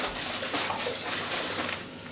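Dragon stout beer pouring into a bowl of melted butter for a Jamaican Easter bun, a steady liquid splash and gurgle running continuously for a couple of seconds, close to the mic.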